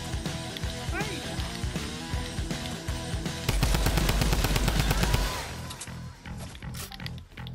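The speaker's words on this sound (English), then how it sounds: "shots fired" Rapid gunfire in the Fortnite video game during a 1v1 match, dense bursts of shots running under game music and effects, peaking loud in the middle stretch before easing off.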